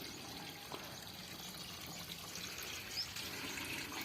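Water draining and trickling from a tadpole tank during a water change after rain, a faint continuous splashing flow with no talking.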